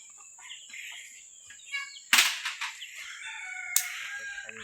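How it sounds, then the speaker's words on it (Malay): Village chickens cluck and squawk nearby while returning to beg for rice, with sharp bursts of fluttering and calls over a steady background hum. "Ayam pun balik minta beras guys."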